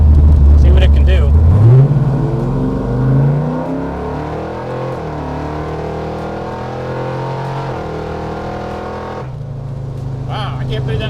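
A 1978 Chevrolet Malibu engine revs hard and accelerates up close, with a loud low roar that climbs in pitch and then settles into a steady drone as the car pulls away. People talk over it.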